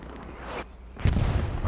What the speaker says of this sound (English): Artillery falling around the area